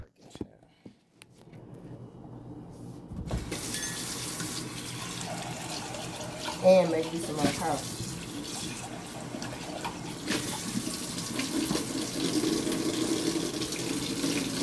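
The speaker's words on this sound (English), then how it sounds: "Let's see if this hot water works." Hot water running from a bathroom tap, a steady rushing stream that starts after a few seconds of near-quiet and continues to the end, with a person talking quietly over it.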